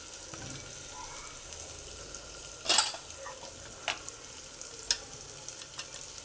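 Tempered rice fries in a pan with a soft steady sizzle, and a spoon stirs it in occasional sharp scraping clicks, the loudest near the middle.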